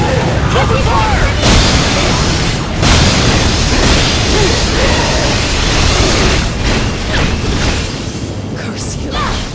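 Gunfire and explosions from the Marvel Ultimate Alliance 3 video game: a dense, loud barrage of booms and bursts, with sharp blasts at irregular moments over continuous rumbling action noise.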